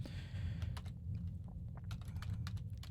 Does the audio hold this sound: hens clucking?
no